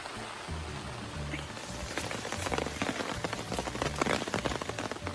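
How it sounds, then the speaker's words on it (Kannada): Heavy monsoon rain pours down steadily in a dense hiss in the Malenadu hills of Karnataka, growing slightly louder and more spattery toward the end. "ನಾವು ಬಂದವಾಗಿಂದನೂ ಒಂದೇ ಸಮ ಮಳೆ ಸುರಿತಾ ಇದೆ"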